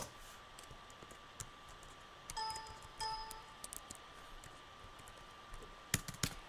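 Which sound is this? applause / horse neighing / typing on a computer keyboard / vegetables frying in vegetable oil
typing on a computer keyboard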